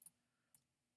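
A computer mouse clicks in Photoshop, three quiet, sharp clicks spaced about half a second apart in an otherwise quiet room.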